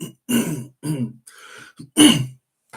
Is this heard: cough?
yes